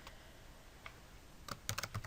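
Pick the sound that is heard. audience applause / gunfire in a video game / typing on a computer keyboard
typing on a computer keyboard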